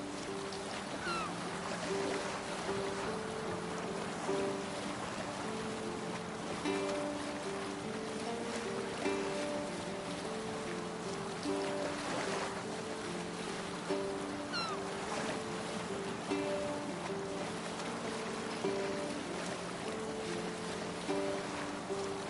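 A Viking longship being rowed and sailed at sea in Assassin's Creed Valhalla: steady wash of water and creaking oars under faint tonal background music, continuous and moderately quiet throughout.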